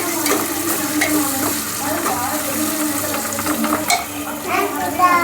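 Whole spices sautéing and being stirred in a hot pan for biryani, with a steady sizzle and scraping stirs throughout, close and fairly loud, with a brief clatter near the end.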